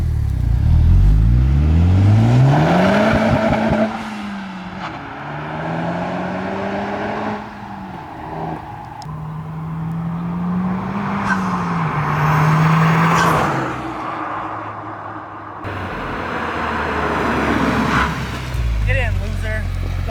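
A Honda Civic Type R with its stock exhaust drives close by, the engine note climbing and falling through revs as it accelerates and shifts, with voices talking over it.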